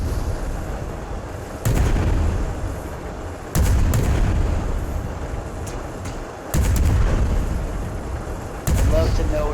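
Ship cannons firing in the airship game Worlds Adrift, heavy booming shots repeating every couple of seconds, each followed by a sustained rumble, loud and close.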